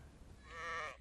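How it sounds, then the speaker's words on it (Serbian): A single sheep bleats once, far off and quiet, a short wavering call rising out of faint background noise. "Čuvam ovce"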